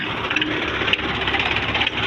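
A tractor engine runs steadily nearby, a loud, continuous mechanical rumble and buzz with slight rhythmic knocks and no breaks.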